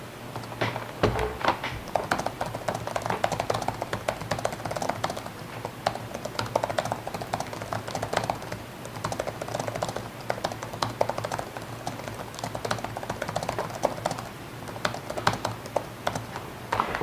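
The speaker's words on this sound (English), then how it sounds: "first I might as well go ahead and test our keyboard" Continuous typing on an HP DV3000 laptop keyboard, quick soft key taps in an uneven rhythm, close up and fairly quiet.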